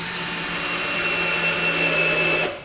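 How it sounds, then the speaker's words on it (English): A power drill drives a screw into a wooden planter box, running as a steady, close motor whine for a couple of seconds before cutting off abruptly. "put your weight over the drill as you put the screw in"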